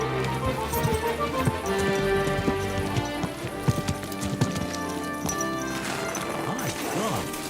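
Horse hooves clip-clop intermittently in Kingdom Come Deliverance II, mixed with a rain-like patter and tonal game music, with a voice briefly audible.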